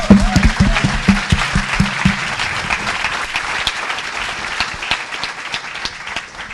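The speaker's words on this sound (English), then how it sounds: "Round of applause." Loud applause from a crowd at a tech festival panel, steady clapping that begins over a bit of talk and continues on its own, slowly tapering.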